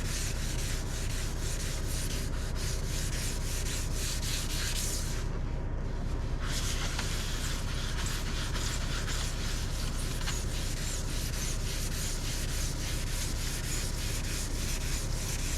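Sanding sponge worked by hand over varnished teak during sailboat maintenance, giving a continuous close scratchy rubbing of steady back-and-forth strokes, with a short pause partway through and no talking.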